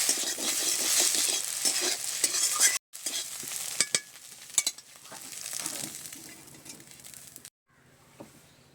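Egg is stirred into noodles in a hot frying pan, with continuous sizzling and repeated scraping and clattering of a utensil against the metal, broken by two brief silent gaps.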